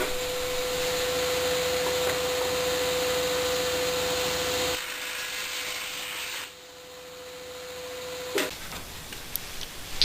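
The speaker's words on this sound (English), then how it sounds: "Next I use my table saw sled to cut the strips to length." A table saw fitted with a sled cuts wood strips to length, two at a time. It starts with a steady motor whine and a high tonal hum, goes quieter partway through as the blade spins down, then ends in a few clicks and knocks.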